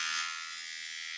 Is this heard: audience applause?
no